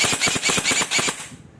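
An airsoft gun fitted with a Nebula ETU fires a quick full-auto burst of about nine sharp, evenly spaced shots, close and fairly loud, then stops abruptly.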